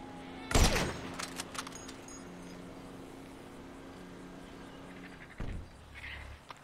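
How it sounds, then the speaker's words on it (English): Gunfire in the GTA 5 target-practice mission as car tires are shot out: a loud broadband shot burst near the start, a second blast near the end, with game ambience and faint engine hum in between. "Pick a car and shoot a tire."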